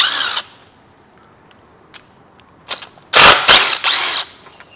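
Bolts holding the timing chain guide on a Kia/Hyundai V6 come loose under a tool, with a few quiet clicks followed by loud bursts of rapid, rattling ratchet whirring close by, and no talking.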